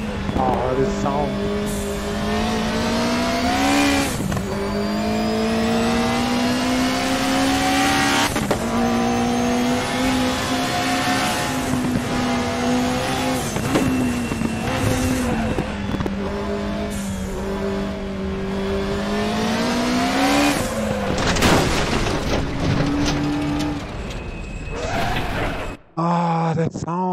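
Race car engine in a racing video game revving hard through repeated rising and falling sweeps, each climb ending as a gear changes, loud and sustained for nearly half a minute, with a brief burst of talk near the end.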